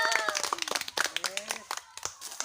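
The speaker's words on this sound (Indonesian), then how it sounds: "tepuk tangannya" Hands clap in quick, uneven bursts, with many sharp crisp claps close by over a few seconds while people talk over them.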